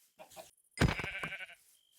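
Sheep in Minecraft bleating once, a short wavering bleat in the middle preceded by a couple of faint soft sounds, clear and close with no talk.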